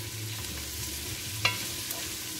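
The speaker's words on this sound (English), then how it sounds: "I'm just gonna let this cook for about" Lobster sautéing in a pan with chopped seasoning and potatoes gives a steady low sizzle, with a brief utensil stir or clink partway through.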